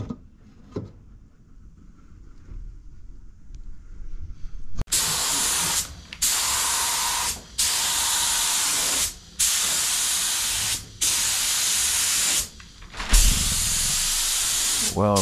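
A paint spray gun coats a 1982 Ford F150, hissing loudly in repeated bursts of about one to two seconds separated by short gaps, after a quiet opening with faint background noise.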